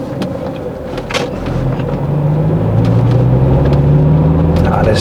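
A Saab 9000 2.3 Aero accelerating in second gear on a test drive, its engine note rising steadily in pitch and loudness inside the cabin over road rumble, with a voice speaking over it.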